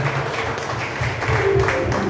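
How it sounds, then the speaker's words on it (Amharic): Church congregation applauding for the Lord during an Amharic worship service, a dense, steady wash of many hands clapping throughout, fairly loud and continuous. "አጨብጭቡ እስቲ ለጌታ"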